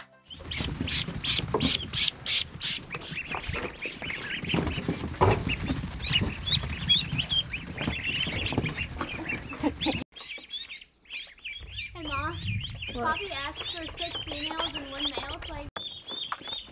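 Farm ducks being moved onto fresh grass, with busy quacking and chattering calls that come in overlapping bursts and then in sharper, clearer rising calls, fairly close and continuous.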